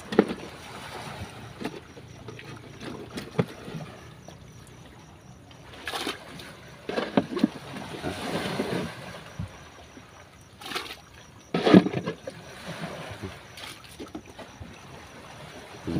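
A small wooden fishing boat paddled across open water, with irregular dips and splashes of the oar over wind buffeting the microphone and lapping water.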